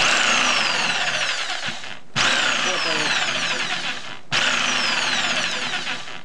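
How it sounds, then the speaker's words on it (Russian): A newly repaired electric jigsaw with a drill-type motor runs in three close, loud bursts of high motor whine, each cut off sharply before the next begins. "Нажимаем кнопочку, и наш лобзик."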